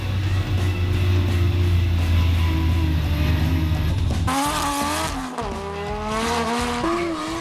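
A drift car at Hampton Downs roars with engine noise, then its tires break into a loud, wavering squeal as it slides through a corner, the screech rising and falling over the second half.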